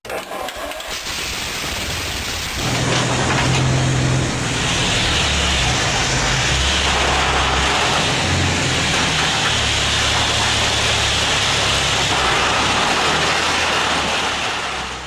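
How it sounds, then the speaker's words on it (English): Restored WWII Panther tank driving under its own power, a loud, steady engine roar with clattering, rumbling low drone that swells after a brief quieter start and holds evenly throughout. "the tank drives on its own."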